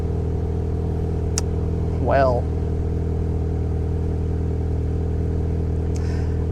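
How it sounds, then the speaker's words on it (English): A Mini Cooper's engine drones steadily as the car drives along, a low continuous hum with a brief swell in the middle, while a person speaks over it. "An exhaust note that would make you giggle."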